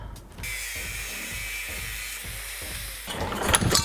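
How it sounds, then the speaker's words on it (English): Metal foot pedals being cut off crutch tubes with a power tool, a steady close hissing, grinding whine with a rhythmic stroking pulse underneath, rising to a harsher, louder rasp near the end. "Just got to cut these foot pedals off now."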